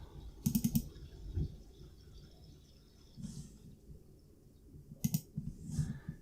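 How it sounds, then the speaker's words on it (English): A computer mouse gives quick paired clicks, crisp and close, in two separate bursts with quiet gaps between them. A few faint extra taps fall in between. "Just double click it."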